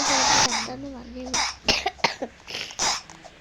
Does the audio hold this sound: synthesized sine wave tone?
no